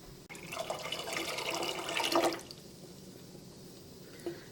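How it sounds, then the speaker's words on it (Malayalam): More water poured over cracked wheat for gothambu payasam, a continuous splashing stream lasting about two seconds that swells, then stops, leaving a quiet room and a faint knock. "കുറച്ചും കൂടി വെള്ളം ചേർക്കാം."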